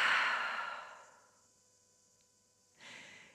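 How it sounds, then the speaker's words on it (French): A long open-mouth exhale during pranayama breathing practice is close and soft, fading out over about a second, followed by silence and then a brief second breath sound. "Et ouvre la bouche, expire."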